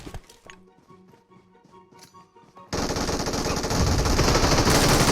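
Video game gunfire erupts into a loud, sustained rapid automatic burst that keeps building, after a few scattered sharper shots and quieter game noise at the start.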